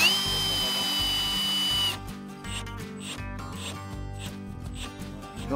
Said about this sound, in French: Donc vas-y, tu peux visser là.